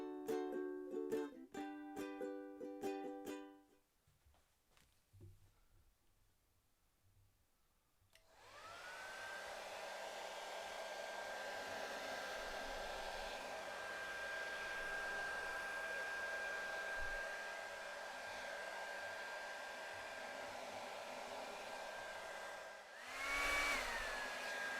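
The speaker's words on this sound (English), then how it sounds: "You just caught me there using my daughter's hairdryer." A hair dryer blows continuously close by, drying paint on a wooden ukulele body, a steady whooshing roar that starts after a few seconds of quiet and cuts off near the end.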